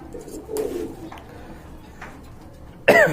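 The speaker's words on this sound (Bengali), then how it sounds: "এই যে দেখেন কতটা তেজি আর অ্যাক্টিভ কবুতর" Pigeons at a pigeon sale coo softly and intermittently against a low background hum, with a louder, sharper burst of sound near the end.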